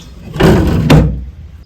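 A sticky wooden drawer on a vintage dresser is dragged open in one scraping, rumbling slide that ends with a sharp knock, close and loud.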